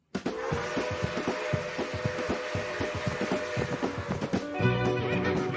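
Horses whinny loudly and repeatedly over a busy clatter of hooves and sharp knocks, with a higher, strained neigh rising near the end; no voices are heard.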